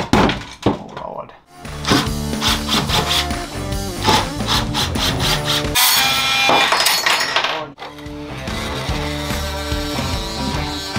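Oscillating multi-tool fitted with a cheap wood blade cutting into rotten wooden boat bulkhead framing with screws, a loud continuous buzzing rasp with a brief pause and restart partway through.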